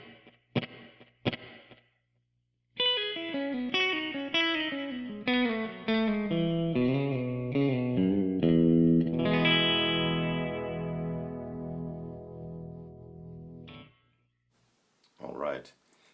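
Guitar notes ring out through a lush, shimmering satellite reverb effect that lets them hang and blend into a ghostly wash, with brief talk before and after.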